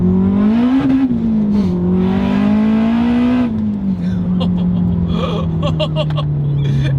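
A turbocharged Acura RSX Type S with a K-series four-cylinder accelerates hard, a loud, near engine note climbing and dipping through shifts, with brief turbo and exhaust chatter toward the end and no talking.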